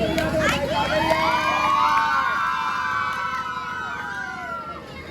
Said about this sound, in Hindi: एक बार फिर से ताली बजा दो, लाइट आ गई है।